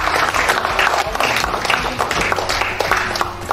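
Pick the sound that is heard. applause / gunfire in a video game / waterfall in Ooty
applause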